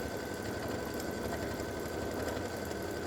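A quilting machine stitches an edge-to-edge double loop design with a steady, continuous mechanical whir and rapid needle chatter at an even pace, close by and uninterrupted, with no voices.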